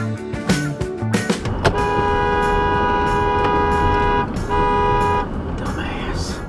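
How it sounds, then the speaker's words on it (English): A car horn blows in long sustained honks close by on a road, with a brief break and then another long blast, loud over traffic noise. "despite a horn blowing a couple feet from his or her ear"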